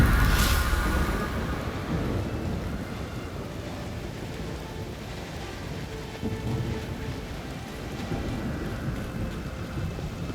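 A thunderstorm rumbles in The Witcher 3 with steady rain pouring on surfaces, opening with a loud low thunder roll that settles into a broad, constant wash of rainfall, with no talk.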